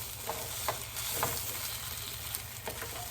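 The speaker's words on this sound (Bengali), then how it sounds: "ভালো করে নেড়ে এটা মিশিয়ে নেব ঘিটা আর গরম মশলাটা" Fish head curry with ghee and garam masala sizzles in the pan while a spoon stirs it, giving a steady close hiss broken by several soft scraping strokes, with no talking.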